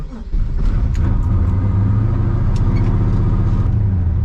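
A 450-horsepower LS-swapped BMW E36 M3 engine hums steadily at low pitch while driving, a constant rumble from inside the car with light rattles and clicks over it.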